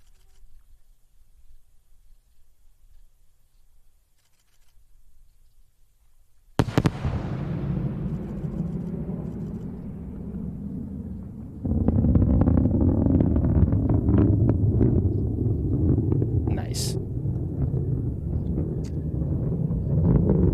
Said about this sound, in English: Those sonic booms never get old, man.